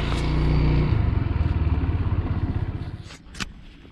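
A motorcycle engine idles with a steady rhythmic putter near the gate of a riverside ghat, then slows and cuts off, leaving faint clatter and a short knock at the end.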